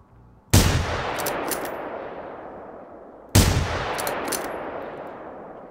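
Gunshots in the video game Generation Zero. Two sharp, loud shots sound about three seconds apart, each with a long echoing tail that slowly fades.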